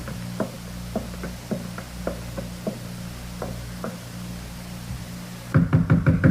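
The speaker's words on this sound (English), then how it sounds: "the way you knock gives me the shakes, Nick." Firm knocking on an apartment door down a hall, a slow irregular series of single raps at moderate distance, then a louder rapid cluster of knocks near the end.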